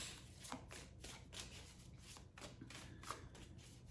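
A deck of playing cards is riffled and shuffled repeatedly in soft, rhythmic papery bursts, quiet and close, with no one speaking.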